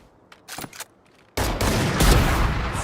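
Rapid gunfire in a competitive tactical shooter match, a few scattered shots followed by a loud, sustained burst of continuous firing that fills the rest of the moment, with no talking.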